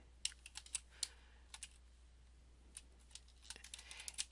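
Keys on a computer keyboard clack in irregular bursts while code is typed, close and fairly quiet, with short pauses between runs of keystrokes and no talking.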